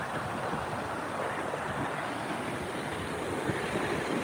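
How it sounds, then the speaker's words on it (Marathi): Spray from Sawatsada waterfall near Chiplun roars as a dense, steady rush of falling water, faint and distant-sounding with wind-like texture and no voices. "असं तो पाण्याचा एवढा फवारा येतोय."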